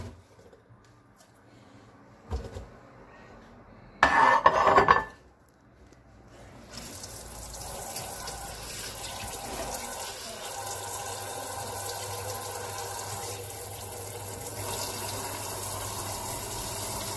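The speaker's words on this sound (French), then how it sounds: "alors je vais commencer par mettre mon poisson dans de l'eau" A tap runs into a sink as fish is put into water, a brief loud gush followed by a long steady stream of running water, close by with no talk.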